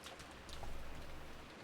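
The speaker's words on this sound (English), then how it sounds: "The unsettling sound of the wind had now blended in with the sound of the rain" Rain and wind in the visual novel Umineko form a steady, dense hiss of falling rain with a faint wind rush, swelling slightly midway, continuous and fairly quiet with no voices.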